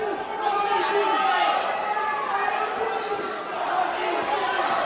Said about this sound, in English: crowd shouting for Botti's name